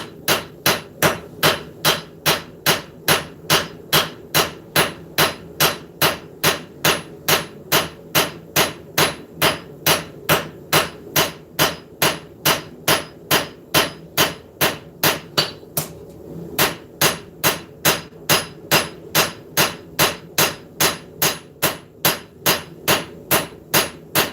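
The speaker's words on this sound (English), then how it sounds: "So I'm going to use the cross peen first." A cross peen hammer strikes hot steel while forging a knife, a long, loud run of evenly spaced metallic blows with a single short break partway through.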